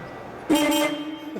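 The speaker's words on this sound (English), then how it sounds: "let's hear the horn first. Let's hear that beep beep" A single 1973 Plymouth Road Runner horn honk of just under a second, loud and nearby, after a short stretch of quiet background, at a car show.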